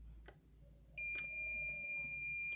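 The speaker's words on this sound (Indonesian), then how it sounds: "lebih dari 120 dia buzzer akan berbunyi" The overspeed warning buzzer in a Mercedes-Benz Axor truck cab, which sounds above 120, comes in as a steady high electronic tone that holds for about a second and a half. A fainter lower tone and a few clicks sit under a quiet engine hum.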